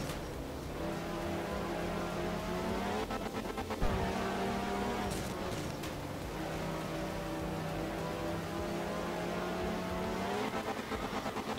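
Rally car engine revving and shifting through gears in Art of Rally, a steady close drone with rising and falling pitch sweeps and a brief thump near the middle, no voices.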